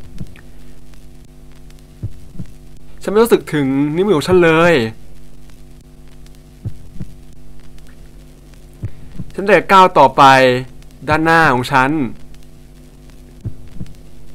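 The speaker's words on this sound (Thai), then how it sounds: "ฉันได้ยินเสียงของหัวใจของฉันเต้น และเสียงหัวใจของตัวเอง" A heartbeat sound effect from a video game plays as regular low thumps beneath a constant hum, while a voice speaks over it in two stretches.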